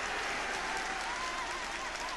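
A football crowd at a Brentford home match applauds steadily, a dense wash of clapping from many hands that stays even and fairly loud throughout, with commentary voices faint or absent beneath it.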